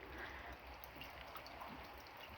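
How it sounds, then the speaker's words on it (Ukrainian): Rain falls steadily outdoors on a wet first day of winter, a faint, even hiss of drops with no clear breaks and no voices. "Цілий день сьогодні йде дощ."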